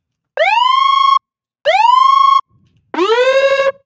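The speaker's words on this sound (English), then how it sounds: "That's how you get kind of the siren sound." Synthesized siren tones built in the Vital software synth: three loud rising wails, each sweeping up and holding steady, with short gaps between them and the last one brighter and slightly wavering.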